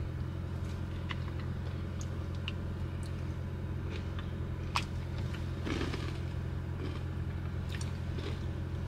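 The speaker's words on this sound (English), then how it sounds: "I'm in a car and I'm on the way to class now" Steady low engine and road hum from inside a moving car, with faint clicks and chewing noises on top and no talking.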